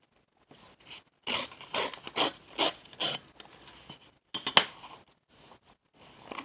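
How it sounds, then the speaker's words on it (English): A paper page is torn off a book during bookbinding. A quiet, close series of short rasping rips comes in uneven bursts, with a few softer tears at the end. "So we'll just go ahead and tear that off."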